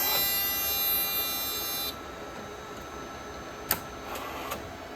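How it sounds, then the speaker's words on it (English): A Radionics D6500 alarm receiver's printer prints events with a steady buzzing, whirring mechanical drone that drops in level partway through, followed by a few faint clicks, heard alone without talk. "the printer is currently printing some events"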